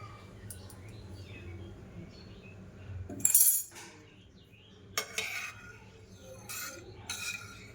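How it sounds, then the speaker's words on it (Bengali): A metal spoon clinks against a pan as asafoetida (hing) goes into oil for a chilli pickle with the gas flame off, giving a few brief sharp taps and scrapes over a quiet kitchen hum. "এবার আমি তেলের মধ্যে হিং দিয়ে দেব।"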